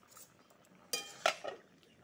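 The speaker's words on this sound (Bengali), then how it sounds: "এখন ঢাকনাটা খুলে দেব।" A metal lid lifts off a cooking pot of fish curry with potatoes, giving a couple of quick close clinks and a light scrape against the rim, fairly faint in a quiet kitchen.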